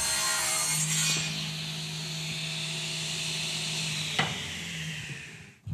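Saw cutting through a maple guitar body blank, a steady rasping drone lasting several seconds with a sharp knock near the end before it stops; no talking.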